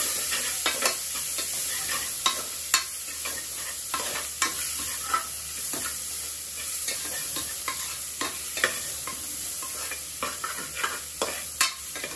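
Chopped onions sizzle and fry in a pan with whole spices for a vegetable egg biryani, with steady crackling broken by repeated sharp scrapes and clacks of stirring, close and fairly loud, no voices.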